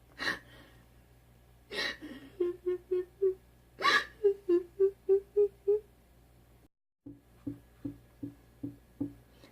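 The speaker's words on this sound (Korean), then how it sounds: "너 왜 여기서 울고 있어?" A voice actor plays a crying girl in a doll drama, giving a few gasping wails followed by rhythmic bursts of short, hiccuping sobs, close and clear, with a brief silent gap before the sobbing resumes.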